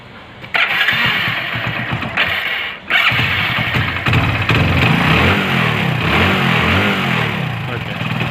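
A used second-hand motorcycle engine cranks into life and is revved lightly, producing a loud, close, rough mechanical drone that briefly drops away before picking up again and holding steady.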